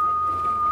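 A person attempting to whistle produces a thin, steady single-pitched tone, faint and breathy, held for under a second with no talking.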